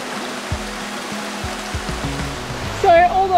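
Steady broadband rush of flowing clear water at a remote spot in the Kimberley, loud and close, with a voice speaking briefly near the end.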